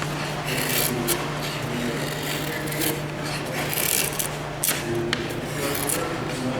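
Wood being shaved down to bevel marks for a birchbark canoe part, a steady scraping and rasping of a blade across the grain with repeated strokes at close range, and faint talk in the background.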